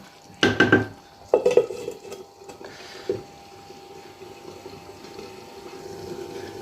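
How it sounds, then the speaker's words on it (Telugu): Tamarind juice goes into a bitter gourd masala curry in a cooking pot, with a few sharp clinks of a vessel at the start, then a soft sloshing pour and gentle bubbling simmer; no talk. "ఇప్పుడైతే మనము చింతపండు రసం అయితే వేసుకుంటున్నాము"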